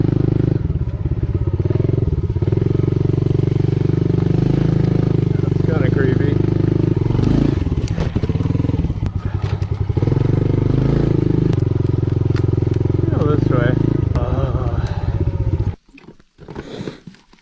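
A motorcycle on an off-road trail in Oregon rumbles loud and steady at close range for most of the run, with clatter and bumps over rough ground, then cuts out abruptly near the end.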